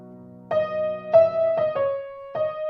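Piano plays the opening line of Chopin's Nocturne Op. 32 No. 1, a few separate soft melody notes after a held low tone, each note ringing briefly, close and quiet with no talking.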